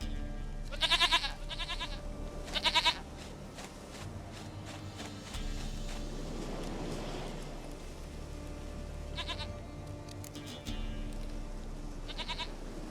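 A goat bleats in short, wavering bursts, a pair near the start and more later, over steady rain and low ambient rumble, moderately close.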